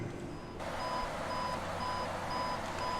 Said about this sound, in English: I got a beeping here, which means I'm over speeding